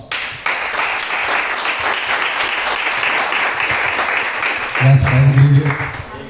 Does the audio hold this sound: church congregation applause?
yes